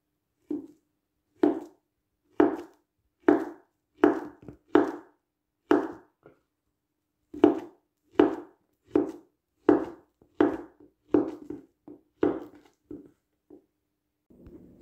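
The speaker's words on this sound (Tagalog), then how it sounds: "Susunod naman nating hiwain ang ating saging na saba." Saba bananas being sliced on a cutting board, a steady series of about twenty close, sharp chops, evenly spaced with a couple of brief pauses, with no talking.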